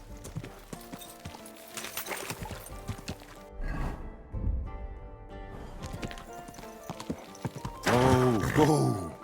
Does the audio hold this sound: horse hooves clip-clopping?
yes